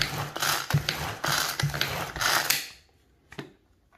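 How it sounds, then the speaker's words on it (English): A hand-pulled Tupperware pull-cord chopper mixing a cherry cheesecake pie filling, giving a run of rapid whirring, ratcheting pulls that stop partway through, followed by a couple of faint clicks in near silence. "That old mixer I just told you about died halfway in the mix, so I had to use my Tupperware mixer."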